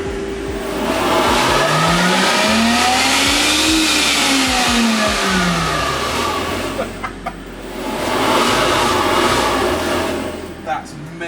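A McMurtry Speirling electric car with its downforce fans running roars past with a loud jet-like whine that rises and falls in pitch as it approaches and recedes, then a second pass swells in near the end.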